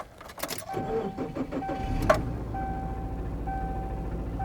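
An engine starts and settles into a steady idle after the serpentine belt was tightened, with a rumbling low drone and faint whine, preceded by a few clicks and clunks nearby.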